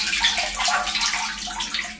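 Water sloshes and gurgles inside a dirty household water tank with iron and sand deposits, a steady close, fairly loud watery wash running the full two seconds without talk.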